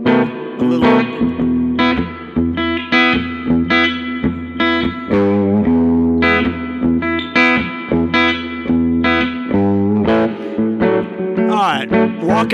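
Distorted electric guitar notes and chords ring out through an amp, each one trailing into a wash of heavy reverb.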